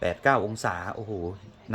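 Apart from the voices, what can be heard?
None of the usual background noises is heard.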